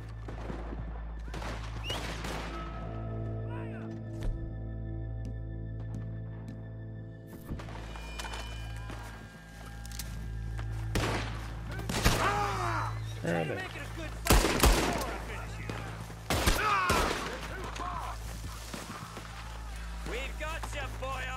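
Gunfire in Red Dead Redemption 2, a series of sharp shots scattered through the clip, some clustered around the middle, over a steady low game hum with someone talking now and then.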